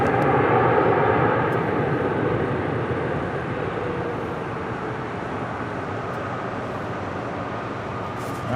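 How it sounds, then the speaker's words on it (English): Boeing 747-8 arriving from Anchorage at LAX roars past with a broad jet-engine rumble, loud at first and then gradually easing off as it moves away. "747-8 coming in from Anchorage"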